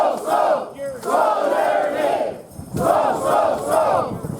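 A union rally crowd for Local 345 in Yellowknife roars and shouts in loud, sustained bursts with brief dips between them, full of massed voices.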